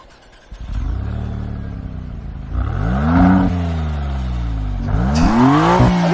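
A 630-horsepower car engine revs in three rising surges, each climbing in pitch and then falling back, growing louder and harsher with the last sharp blip near the end, heard up close with no talking.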